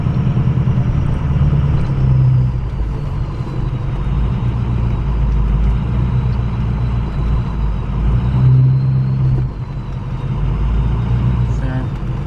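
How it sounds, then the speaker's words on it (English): A Ford 6.0 Powerstroke diesel truck drives with a deep, continuous engine rumble heard from inside the cab, loud and steady with slight shifts in pitch, while someone talks over it. "now we'll see how the truck actually runs."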